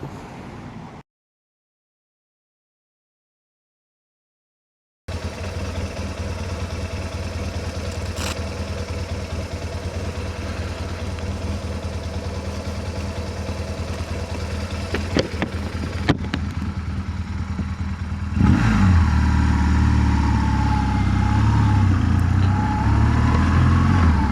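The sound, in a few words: motorcycle riding engine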